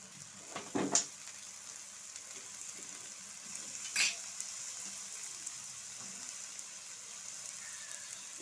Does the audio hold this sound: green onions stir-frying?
yes